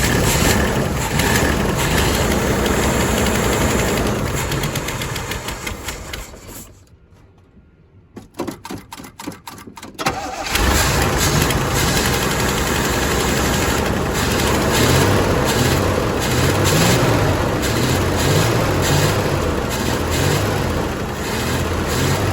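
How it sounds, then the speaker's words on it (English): An old project car's engine is cranked and started after fuel-line repairs, then runs on loudly and steadily with a brief drop partway through, close by, no voices. "we're gonna give her another go to see if we can get her to start"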